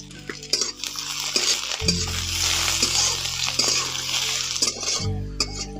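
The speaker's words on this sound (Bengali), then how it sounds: "প্রথমে আমি গাজর কুচিটা ভেজে নিচ্ছি এই গাজর কুচিটা একটু ভাজতে সময় লাগবে তাই আগে ভেজে নিচ্ছি" Chopped carrots fry in white oil in a pan, a continuous close sizzle with frequent scraping stirs and a few clinks of the utensil against the pan.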